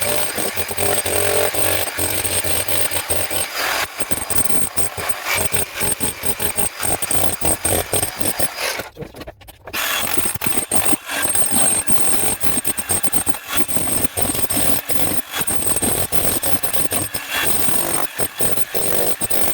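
Electric concrete breaker, a Bosch GSH7VC or Hitachi H45MEY, hammering into concrete: a loud, continuous rapid pounding with gritty crumbling, broken by one short pause midway before the hammering resumes.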